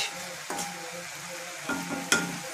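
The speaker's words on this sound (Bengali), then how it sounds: "আমরা একটু সুজি ভেজে নিব" Semolina for carrot halwa frying in a pan with a constant sizzle, broken by several scraping strokes of a spoon and a sharp clink against the pan; close, no voices.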